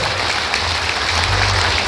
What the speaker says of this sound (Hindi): आइए हम लोग जोरदार ताली से स्वागत करें